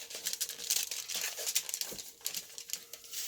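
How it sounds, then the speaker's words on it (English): Tin foil crinkles and crumples as it is folded over, a dense run of close, fairly faint rustling with small sharp crackles and no talk. "I used a piece of tin foil, which I then just folded over"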